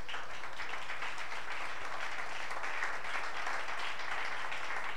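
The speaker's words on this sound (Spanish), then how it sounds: "Dele fuerte el aplauso al Señor" A church congregation applauds during a Spanish-language sermon, a dense, steady wash of clapping that holds for the whole stretch at moderate distance, with no voices standing out.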